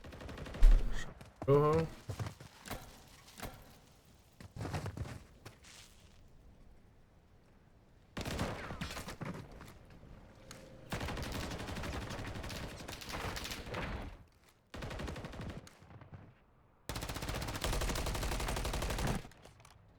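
Gunfire during a competitive video game match: bursts of automatic fire and single shots in irregular clusters, loud and close, with a commentator speaking over parts of it.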